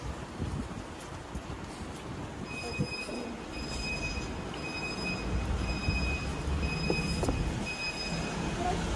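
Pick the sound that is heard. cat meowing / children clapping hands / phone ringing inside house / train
train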